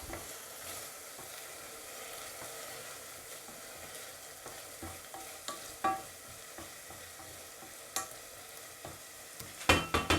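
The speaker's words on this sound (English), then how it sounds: "into that I'm going to add in the onion. Okay, so give this a stir." Onion sizzles and fries in a pot while being stirred, a soft steady crackle with occasional scraping clicks of the spoon growing sharper toward the end.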